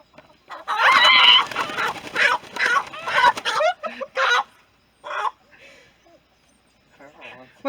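Chickens from a laying flock squawk and cluck loudly up close in agitated bursts as they are caught, with a voice talking in between; the noise tapers into quieter scattered clucks.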